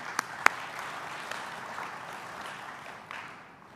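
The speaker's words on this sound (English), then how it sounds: "Can we give them a round of applause too," A conference audience at an Opportunity Zone summit gives faint, scattered applause, with a couple of sharp claps early on before it thins out.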